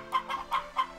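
A chicken in the farming video game Harvest Moon: Back to Nature clucks four times in an even, quick rhythm, each call near and fairly loud against a faint hum, with no talking.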